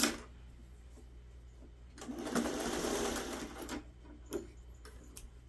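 A sewing machine stitches a quilt seam in a short burst of rapid, even needle chatter lasting under two seconds, with a few softer clicks and taps before and after in a quiet room.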